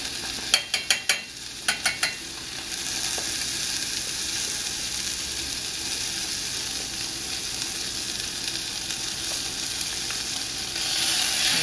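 Gochujang sizzles in a hot pan and is stirred while ddukbokgi is being made. A few sharp utensil taps come at the start, then a steady, close frying crackle and hiss continues with no voices.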